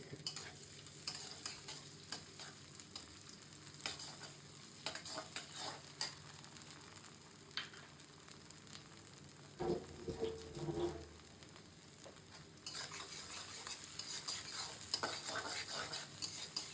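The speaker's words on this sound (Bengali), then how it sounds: "এখন দিয়ে দিচ্ছি পেঁয়াজ" Onions frying in a pan for a bottle gourd and shrimp curry, a low continuous sizzle with scattered stirring scrapes and a few knocks, growing a little brighter near the end.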